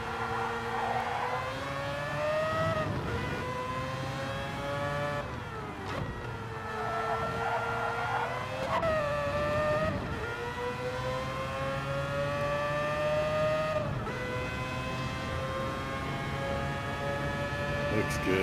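Race cars, a Porsche among them, scream around the track in Gran Turismo 7, their engines a sustained loud whine that rises and falls through gear changes and corners, with commentators talking over the racing.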